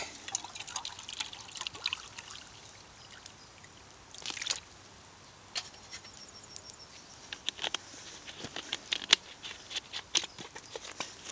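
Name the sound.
boiling water being poured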